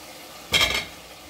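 Cucumbers drop into a hot pan for a thin fish curry, setting off a short, sharp burst of sizzling that quickly fades back to quiet.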